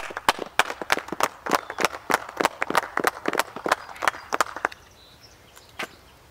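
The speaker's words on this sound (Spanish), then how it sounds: "Propongo un fuerte aplauso." A small group in a hotel claps sharply and evenly, a rapid run of distinct, close hand claps that thins out after a few seconds, leaving only a couple of late claps.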